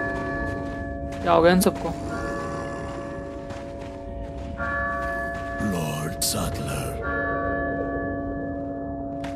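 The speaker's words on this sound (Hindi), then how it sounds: "ओ बेल बज गई चर्च।" A church bell rings in Resident Evil 4, loud tolling strokes with long ringing tones at intervals, while someone speaks over it.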